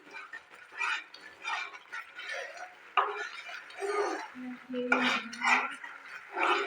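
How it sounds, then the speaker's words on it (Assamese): A spoon stirs a thickening potato sweet in a kadai, scraping and clinking against the metal in a steady rhythm. A voice talks over much of it. "এইখিনি মই কেৰাহী এৰি নিদিয়ালৈ এইদৰে লাৰি থাকিম।"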